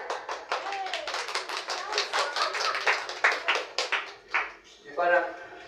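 Several people in a church congregation clap in quick, uneven bursts at close range, with voices and shouts mixed in among the claps.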